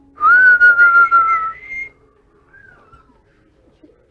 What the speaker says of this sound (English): Can we hear a whistle?